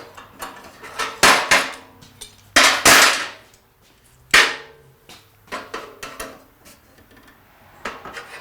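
A hammer strikes a bent impeller blade from a waterjet cutter several times in an irregular series of sharp metallic clanks, close and loud, with quieter taps and gaps in between.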